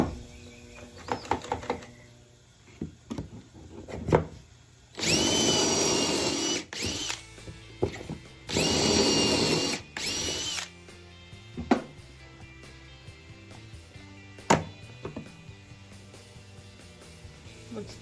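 A power drill whines loudly in two bursts of a few seconds each, drilling pocket holes in a wooden cabinet face frame, between quieter workshop clicks and knocks.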